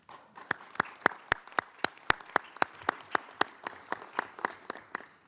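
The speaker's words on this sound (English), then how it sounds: "Never have advance applause" Scattered audience applause at UN Headquarters during a nuclear weapons and moral compass event, a few people clapping in sharp distinct claps with a rough steady rhythm, close and clear over a quiet room.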